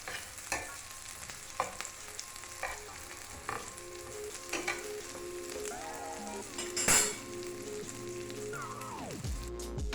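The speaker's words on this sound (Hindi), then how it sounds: "ये गरम ही पैन में अच्छे से ये फ्राई हो जाएंगे।" Chicken burger patties fry in a hot pan with a steady close sizzle, joined by clinks of a utensil against the pan and occasional scraping near the end.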